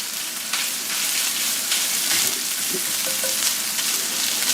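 Meat searing in a skillet for a crustless mini quiche Lorraine, a dense, constant close sizzle with a few faint pops and scrapes, no talking.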